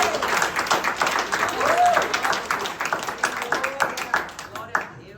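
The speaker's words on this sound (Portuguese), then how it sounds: "Vai dar um aplauso ao Senhor por isso?" A church congregation applauds in a sustained wave of clapping during a sermon, dense and moderately loud before thinning into scattered claps, while a voice speaks over it.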